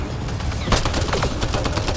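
Rapid gunfire from Mass Effect Andromeda crackles in dense overlapping bursts. A sharp louder shot cuts through the middle, and the loud battle noise is steady throughout, with no speech.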